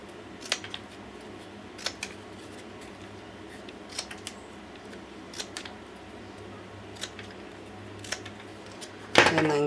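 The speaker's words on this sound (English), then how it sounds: "now you want to go around to all of the edges and cut them even" Scissors trimming the paper or fabric edges of a shabby chic picnic basket craft, a series of quiet, crisp snips spaced every second or two, close up, with a louder rustle at the end.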